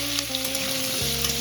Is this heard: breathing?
no